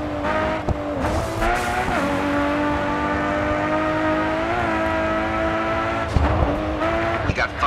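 A Nissan Skyline GT-R R32 racing car in the Grid 2 video game drives hard, its engine droning steadily and rising and falling through gear changes, with a brief tire squeal and bumps along the way.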